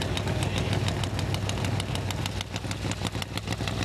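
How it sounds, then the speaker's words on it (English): Pro Stock drag racing motorcycle, a Suzuki lined up against a Buell Suzuki in a Pro Stock Motorcycle final at the Route 66 Nationals, its engine running steadily loud and close with a rough, pulsing idle rumble throughout. "Speaking of Ellis Tonglet, here he is on his Suzuki, ready to go up against Chip Ellis."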